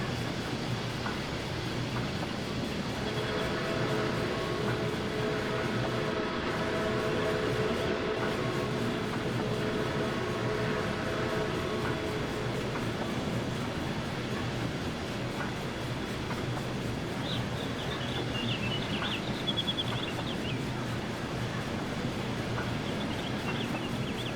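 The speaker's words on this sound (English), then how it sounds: "Definitely one of the best simulated steam locomotives in trains right now." A steady, dense rumble and hiss from a Canadian Pacific H1a/b 4-6-4 Hudson steam locomotive in a simulation game runs throughout, with a faint high whistle-like tone entering near the end.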